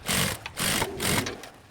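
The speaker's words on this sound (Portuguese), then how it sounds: "aqui eu já vou virar e vou passar a costura reta, que aí eu já prendo o forro nessa partezinha aqui" A sewing machine runs a straight stitch through backpack lining fabric in three short bursts, each a steady whirring run of about half a second with brief pauses between, close and fairly loud, with no talking.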